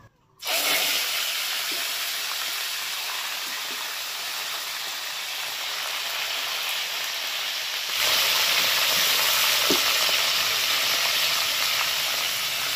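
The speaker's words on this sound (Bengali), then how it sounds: "শুধু চিকেনগুলোকে এরকম ধরবো আর তেলে ছাড়বো" Marinated gondhoraj chicken pieces frying in hot oil give a loud, steady, close sizzling hiss that starts abruptly and grows stronger partway through as more pieces go in. No one speaks.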